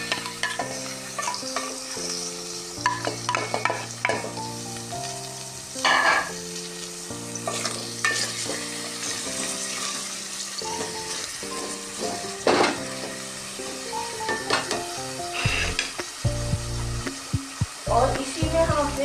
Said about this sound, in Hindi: 1 मिनट के लिए सिर्फ हमने इस कीमे को प्याज के साथ थोड़ा सा भूनना है।